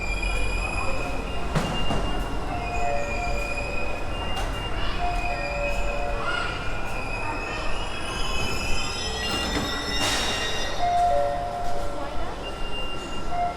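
A metro train rumbles through a station, its wheels squealing in long metallic screeches over a steady low roar, loud and close, with faint voices in the background.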